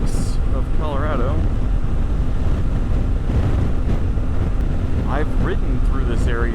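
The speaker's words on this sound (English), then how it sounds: "It's a little windy." Steady wind buffeting while riding a motorcycle through the Spanish Peaks of Colorado on the Trans-America Trail, a loud continuous rush throughout with brief voice sounds over it.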